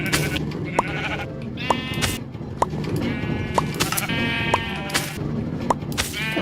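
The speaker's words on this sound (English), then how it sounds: "Alright, and I just got the last sheep." Repeated sheep bleats in the Minecraft video game, several short wavering calls spread across the clip at a steady loud level over a low background hum.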